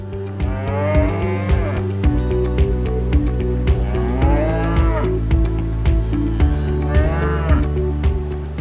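Belgian Blue beef cattle moo repeatedly and loudly, several drawn-out calls overlapping over a steady low rumble of the herd and surroundings.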